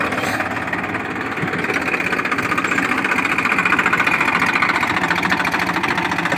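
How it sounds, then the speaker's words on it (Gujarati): A tractor pulls a seed drill, sowing maize mixed with fertilizer on a village farm. Its engine runs close by in a steady, throbbing chug at low speed, unbroken by any voices. "હમણાં છે ને જાય છે ટ્રેક્ટર ધીરે ધીરે હાલે"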